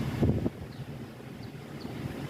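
Air conditioner blower fan of an Isuzu D-Max 1.9 running at its highest setting inside the cab, a steady whooshing airflow with a brief louder thump near the start.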